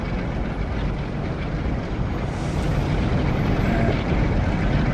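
Idling train at a station platform in the Train Sim World game, on the Northern Trans-Pennine route, gives a steady, loud, broadband rumble with a hissing air-brake texture that holds evenly throughout, with no voices.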